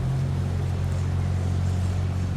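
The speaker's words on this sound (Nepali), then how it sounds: "स्वाट पर पुल मुनिबाट क्रस गरेर गयो डुङ्गा" A boat passes under a bridge in London, its engine a steady, continuous low drone that stays loud and even throughout, with no voices.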